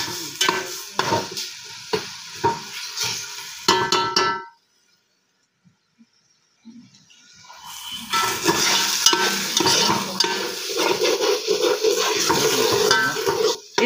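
Ginger garlic paste frying in hot oil for chicken biryani, with close sizzling and a spoon stirring and scraping the pan, falling silent for a few seconds midway before the sizzle and stirring resume.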